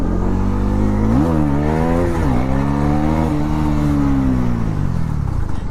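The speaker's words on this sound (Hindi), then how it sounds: "अब क्या प्यारी व्हीली कर रही" Bajaj Pulsar NS400Z motorcycle revving hard during a power wheelie, a loud continuous engine roar with rising and falling pitch, close and steady throughout.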